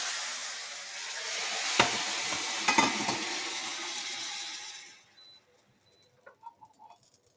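Steak sizzling in a hot pan for a carnivore-diet meal, a steady broadband frying hiss with a couple of sharp spatters, cutting off abruptly near the end and leaving faint quiet clinks and small sounds.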